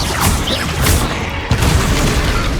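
A fiery Incendio spell blast in Hogwarts Legacy, a dense booming roar that holds loud and steady throughout, with a fresh burst of impact around the middle.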